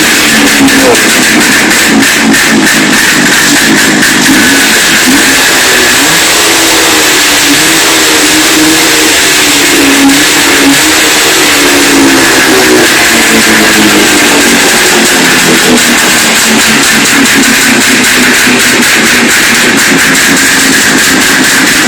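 A Jawa 634 Soviet-era motorcycle with a carburetor that is not very clean runs loud and close, its engine note rising and falling as it revs continuously, with no talking.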